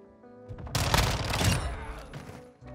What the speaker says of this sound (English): I got shot in the back.